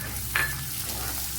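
Crushed small onions fry in a pan with green chilies for an anchovy curry, giving a steady, close sizzle with a brief stir partway through.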